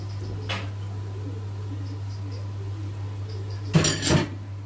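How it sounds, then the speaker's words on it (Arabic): Diced potatoes with onion and peas being sautéed in a pan, heard as a couple of sharp utensil clinks and scrapes against the pan over a steady low hum, with quiet stretches between. "شوحها كده برضو مع البصل كده والبسله تمام"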